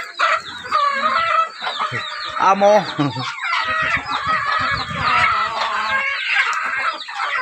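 A flock of chickens clucking and squawking busily at feeding time in a dense, continuous chorus, with a voice speaking briefly over them.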